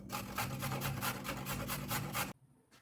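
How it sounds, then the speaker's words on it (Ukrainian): Rhythmic rasping scrapes of a carrot being grated on a coarse grater, repeated quickly and evenly, then stopping abruptly. "Морку натираю прямо у цю посудину. На крупній терці можете натирати по-корейськи."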